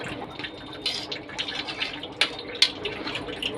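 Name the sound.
water being poured into a pot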